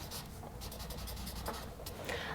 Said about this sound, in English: let me just write this down